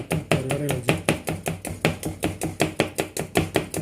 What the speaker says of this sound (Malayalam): നൈസായിട്ട് അരിഞ്ഞെടുക്കുക. അടിപൊളി ചിക്കൻ കറി ഉണ്ടാക്കുന്നത്.